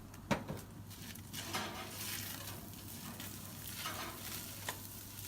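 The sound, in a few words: stirring lamb with rosemary and garlic in a Dutch oven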